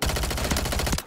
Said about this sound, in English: It's the Striker 9 SMG.